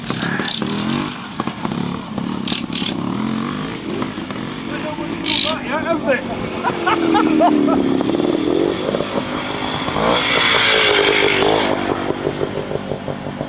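A Francis Barnett motorcycle at a Lady Lane trials event revs and labours over rough ground, engine rising and falling amid clatter, with a commentator talking over it.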